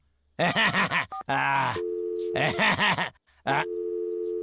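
A tonal electronic phone busy signal in an animated cartoon beeps in repeated bursts between stretches of animated, cartoonish voices.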